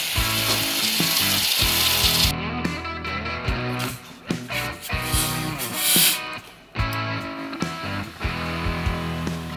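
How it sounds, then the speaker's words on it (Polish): Bicycle parts heating in Coca-Cola in a kitchen pot give a steady crackling sizzle, broken by clattering metallic knocks and scraping handling noises, fairly close and without talk. "tym razem będziemy podgrzewali części w Coca-Coli w garnku"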